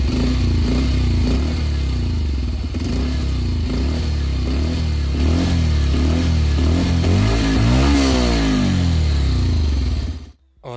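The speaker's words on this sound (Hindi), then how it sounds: "तो आप सुन लीजिए अब एग्जॉस्ट साउंड।" A 2020 Bajaj Pulsar 150 Twin Disc BS6 fuel-injected motorcycle idles loudly up close, its exhaust thumping steadily before the engine is revved several times in quick rising bursts, then falling quiet at the end.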